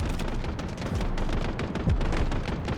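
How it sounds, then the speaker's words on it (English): Artillery barrage in the video game Delta Force, a dense, continuous roll of booming blasts and gunfire crackle filling the whole stretch at steady loudness, with no pause between impacts. "Artillery barrage incoming."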